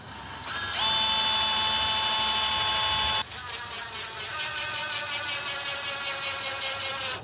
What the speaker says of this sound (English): I'm gonna drill a pilot hole and then drive a screw in.